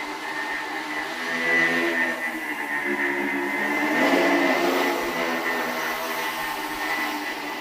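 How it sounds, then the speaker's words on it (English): A coaxial twin-propeller quadricopter flying machine hovers with a steady, whining buzz of spinning propellers, swelling slightly and easing in loudness at mid distance, with no voices. "When you put them together, they behave like one high-performance quadricopter."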